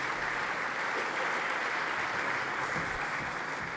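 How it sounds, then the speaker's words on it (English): Audience applause at a joint closing session, a steady wash of many hands clapping at moderate, even level throughout, with no speech over it. "I need to applaud a little for us"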